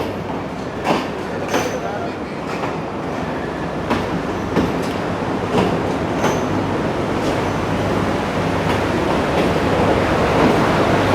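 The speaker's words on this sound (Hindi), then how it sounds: "ओके दोस्तों, ट्रेन आ चुकी है।" A train pulls into a station in Colombo on the coastal line beside the Indian Ocean, a steady close rumble of rolling wagons with intermittent clicks and clanks and a faint voice now and then.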